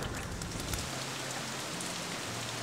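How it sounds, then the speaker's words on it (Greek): Steady rain falls outdoors on surfaces after a wet night, a continuous dense hiss with a low rumble underneath and no voices. "Μια πολύ βροχερή νύχτα έχει περάσει, η μέρα έχει έρθει, αλλά συνεχίζεται η βροχή"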